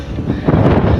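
Wind gusts buffet the microphone on a rocky hilltop trek at Channarayana Durga, a steady low rumble of blustery air that swells slightly louder midway, with no voices.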